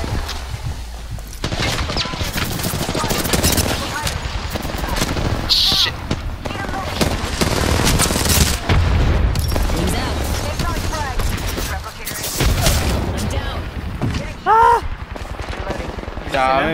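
Frequent gunfire from Apex Legends, machine-gun bursts and single shots recurring throughout a busy firefight, loud and close, with a voice talking in between.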